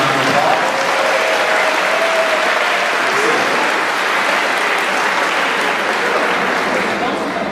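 An audience at a middle school promotion ceremony applauds award winners, steady, dense clapping throughout with a brief voice near the start.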